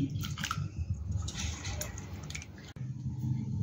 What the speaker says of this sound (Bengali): তো এবার আমি এটাকে 2-3 বার ভালো করে জল দিয়ে আলুর যে স্টার্চটা আছে সেটা এবার ভালো করে ধুয়ে নিই